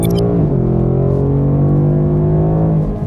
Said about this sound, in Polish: Ale spodziewałbym się trochę w ogóle niższych dźwięków z tego Mustanga.